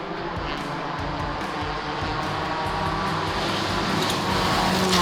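Rally car entering stage 6 of a rally, a steady loud engine drone that builds slightly in volume over a few seconds, with no talk.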